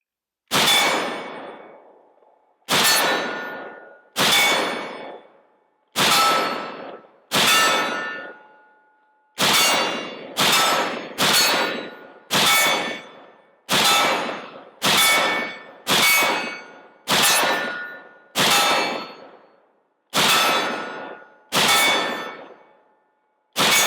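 A Ruger Mini-30 rifle fires about sixteen sharp, loud shots at an outdoor range. The shots come at irregular intervals, each followed by a short decaying echo, with no talk between them.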